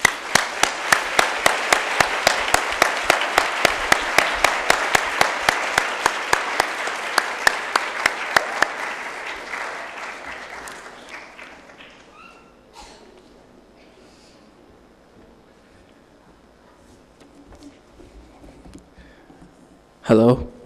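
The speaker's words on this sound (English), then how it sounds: "give a big round of applause to New and welcome him to the stage" Audience applause at a primary school awards ceremony fills the first ten seconds as loud, steady clapping, then fades to quiet room tone before a voice begins at the very end.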